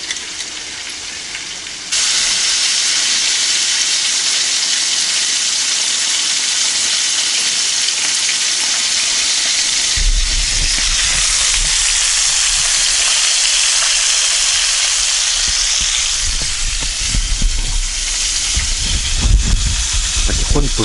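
Breakfast sizzles and fries in a pan at a tent campsite, a steady broadband hiss that jumps louder after a couple of seconds and carries on with small crackles and clinks throughout.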